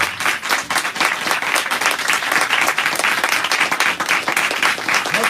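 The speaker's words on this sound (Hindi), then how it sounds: "बहुत कम तालियां।" Church congregation applauding together in sustained, dense clapping that stays strong and fairly even for several seconds, with no voices rising above it.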